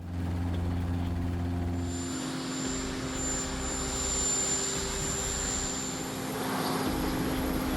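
Marine One, the presidential helicopter, whines and whirs steadily, with a low drone at the start giving way to a broad rotor and turbine roar, fairly loud and continuous with no voices.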